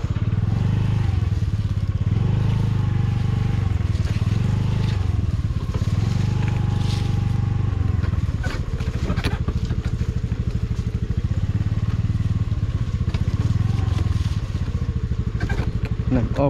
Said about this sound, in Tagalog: Nag-off-road ang Dio.